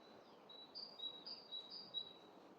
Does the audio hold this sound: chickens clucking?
no